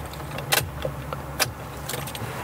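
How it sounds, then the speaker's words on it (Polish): A Suzuki car key with a large logo jangles in a few sharp metallic bursts, close up, over a steady low hum inside a car. "wyciągam już kluczyk"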